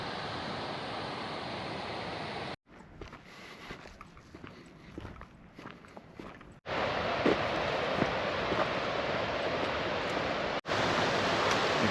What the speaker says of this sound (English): You've got to be careful when you hike by loud rivers like this